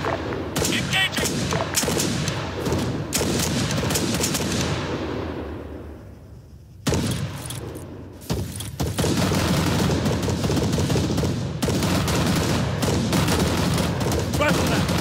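Dense rifle and machine-gun fire in an Arma 3 firefight, near and loud bursts rolling almost continuously, with a brief lull and a distant boom partway through before the shooting resumes at full intensity.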